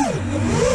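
Motor emitting a high-pitched whine as the throttle is released, a brief, loud engine tone sliding down in pitch then climbing back up.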